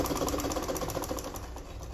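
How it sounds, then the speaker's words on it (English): A sewing machine stitching down a pocket seam on a sleeveless gown at a half-inch allowance, a fast, steady mechanical whir with a rapid rhythmic needle beat, close and continuous with no voice. "we are going to be sewing it down using the 1/2 inch there"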